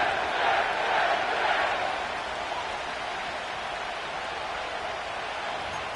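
A stadium crowd in an EA Sports football video game at MetLife Stadium gives a steady, broad roar, loudest at first and then settling into a constant hiss.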